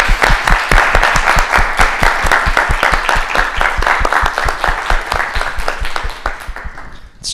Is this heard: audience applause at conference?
yes